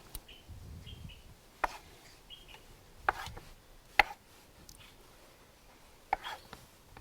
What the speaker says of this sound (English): I'm also going to slice them in triangles.